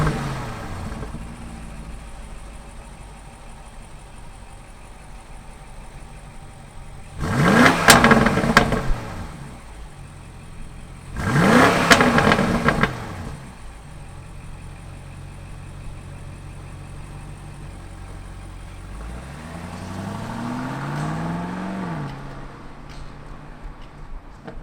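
A 2020 BMW X5 M50i SUV engine hums steadily while driving on the road, with two loud revving surges and a rising acceleration whine near the end; no talking.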